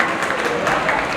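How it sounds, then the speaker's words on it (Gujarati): Brief burst of dense applause from a gathered audience at an evening song program as a guest singer is welcomed, steady and close throughout. "તાળીઓની વધાવીએ."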